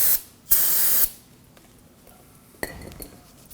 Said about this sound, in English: We're going to go ahead and spray this off with some brake cleaner.